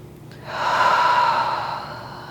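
A single audible breath taken during a hip-stretching yoga session, rising after a brief quiet moment and holding as a steady airy exhale before fading, close and moderately loud with no talking.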